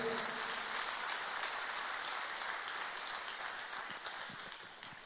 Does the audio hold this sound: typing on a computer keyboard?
no